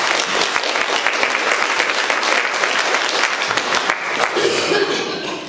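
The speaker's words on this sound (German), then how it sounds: "Applaus für den Sophia." Audience applause at an energy technology workshop: dense, steady clapping from a room full of people, close and loud, lasting throughout with no voices over it.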